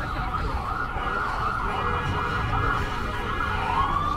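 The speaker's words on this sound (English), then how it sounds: "it's irritating, but it's an ambulance" An ambulance siren wails steadily on a New York City street, loud and continuous against city traffic noise, its tone sweeping upward near the end.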